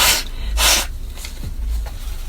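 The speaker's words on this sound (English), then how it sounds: "I'm sorry, I have to blow my nose" Two loud, breathy nasal blasts in quick succession, followed by softer snuffling bursts, close to the listener with no talking.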